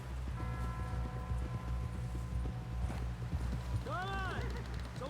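Horse hooves clip-clopping at a steady pace in the Red Dead Redemption 2 video game, loud and close, with rhythmic low thuds beneath continuous talk and a brief whinny-like call near the end.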